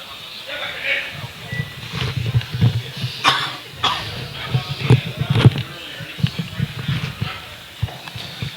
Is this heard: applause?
no